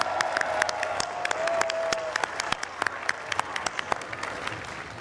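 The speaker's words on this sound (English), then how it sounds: "Can we hear you with a big round of applause if that's the case?" Festival audience applauding throughout, a dense spread of clapping with sharp individual claps standing out, loud and continuous, with a faint sustained tone briefly running underneath.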